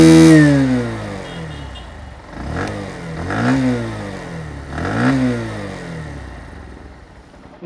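A Bajaj Platina 110 ABS BS6 motorcycle's exhaust revved up close, with three rising and falling blips of engine pitch over a settling idle and no voices.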